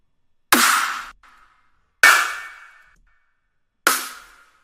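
Three separate layered snare drum hits for a metal production, punchy and bright with short decaying tails, evenly spaced and heard alone in a dry studio setting.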